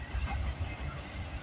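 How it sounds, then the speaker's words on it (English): A freight train rolls past at trackside on Canada Day, a steady, loud low rumble of wagons with faint rail clatter and hiss throughout, no voices. "That train originates from Montreal, Quebec, terminates at the Cottingham Yard in Vancouver, BC."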